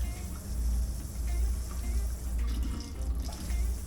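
A wok is washed under a running kitchen tap, a steady close hiss of flowing water with faint scrubbing and clinks in the sink.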